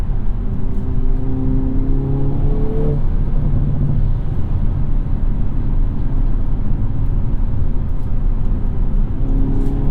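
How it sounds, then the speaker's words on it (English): A 2022 Hyundai Kona N engine droning steadily from inside the moving car, a loud low rumble with a rising then falling tone near the start, and faint irregular pops and burbles. "you can hear it still sounds awesome. Still get some of those pops and burbles."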